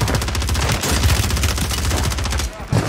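Rapid gunfire from a first-person shooter video game, a loud close burst of dense automatic shots that rattles steadily, then pauses briefly before a few more shots.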